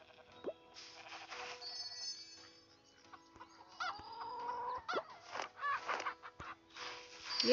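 Chickens clucking on a farm, a run of soft, uneven clucks and short calls at moderate distance, fairly quiet, with no talk over them.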